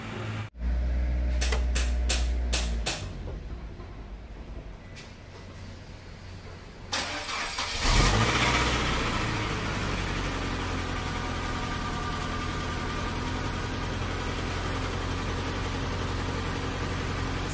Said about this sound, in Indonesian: Kalau sebelumnya itu di starter seperti ini.